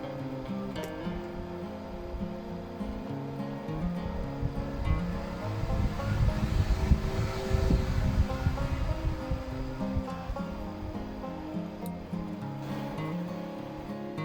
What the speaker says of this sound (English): I will use this fan to generate airflow